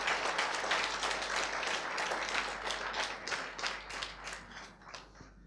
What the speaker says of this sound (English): Let's have a loud round of applause for all of us over here.